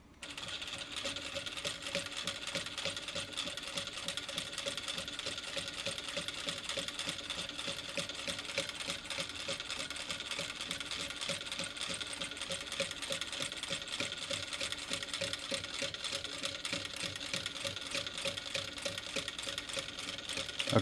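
A Vevor M2 sewing machine fitted with a Sailrite binder attachment stitches binding onto material, a fast steady mechanical chatter of needle strokes running continuously for about twenty seconds, close and alone.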